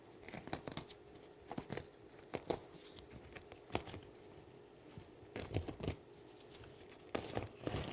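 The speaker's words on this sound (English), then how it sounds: "We tear them off." Stitched embroidery patches ripped off a hoop's stabilizer backing: several quick, crisp tearing rips in short bursts separated by quiet pauses, close and fairly soft.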